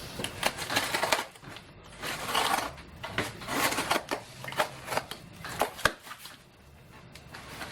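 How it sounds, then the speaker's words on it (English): Heat press vinyl package being unboxed up close: continuous crinkly rustling and crackling of plastic and paper packaging, with bursts of handling and tearing and a few sharp clicks, no voices. "So I'm going to go ahead and unbox it."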